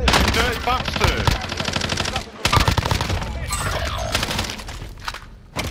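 Rapid automatic gunfire and bursts of shots rattle loudly and almost continuously in a multiplayer shooter video game, with brief pauses between volleys.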